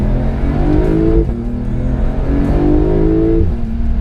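A 2020 Porsche 911 Carrera base (992) idles low and throaty, with rough factory exhaust burbling pulses swelling and easing in a loose rhythm.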